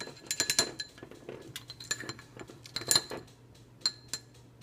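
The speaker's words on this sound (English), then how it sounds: "I'm going to use the chopstick instead." Chopstick clinking and scraping in a container as homemade lip balm mixture is stirred, a run of close, irregular sharp taps, loud bursts clustered early and mid-way, then sparser knocks.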